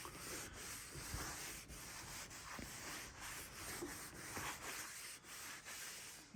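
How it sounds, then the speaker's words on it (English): Continuous abrasive sanding on a wooden chair seat, rhythmic back-and-forth rubbing strokes, close and fairly loud, with no talking. "It's hard to tell how long I'm going to be sanding this."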